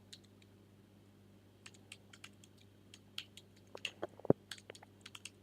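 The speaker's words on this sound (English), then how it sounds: "So we type in title." Quiet keystrokes on a computer keyboard come in short scattered bursts, a flurry of clicks near the end, against a low steady hum.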